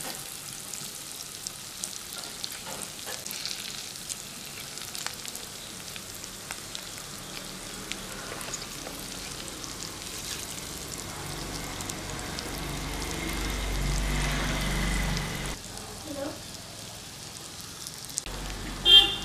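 Eggs roast in a hot pan for a village-style egg biryani, giving a steady soft sizzle and frying crackle throughout, swelling slightly near the end, with faint stirring clinks and no talking.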